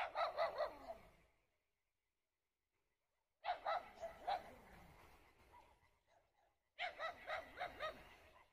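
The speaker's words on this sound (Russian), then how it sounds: "Собаки гавкают, птицы заливаются" Dogs bark in short rapid bursts, three separate volleys split by silent gaps, close and fairly loud, with a few yips mixed in.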